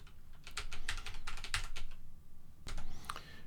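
Rapid typing on a computer keyboard while entering credit card details, a close, steady stream of key clicks with brief pauses and no talking.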